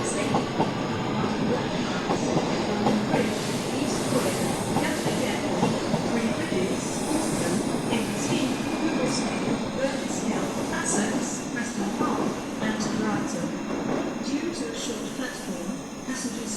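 An electric train rumbles steadily through an underground platform on the Thameslink core heading towards Farringdon, with rhythmic wheel clatter and hum, a constant loud mechanical roar echoing in the enclosed space.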